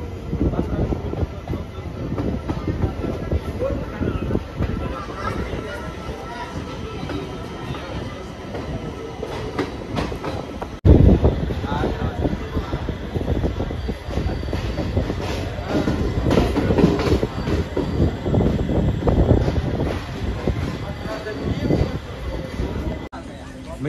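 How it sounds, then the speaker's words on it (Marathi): Guntur Express train on platform 1 at Gangakhed railway station after rain, a close, loud rumble of rolling wagons with rhythmic clatter and occasional wheel squeal, under a voice talking. "प्लॅटफॉर्म नंबर 1 वर आपली ही गुंटूर एक्सप्रेस आलेली आहे"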